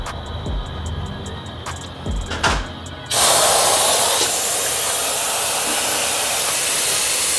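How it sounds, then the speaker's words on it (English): A pneumatic brake bleeder on a 2022 BMW S 1000 RR starts up, with a few clicks and knocks giving way to a loud, steady, close hiss as it sucks brake fluid through the system. "I'm gonna grab the brake bleeder."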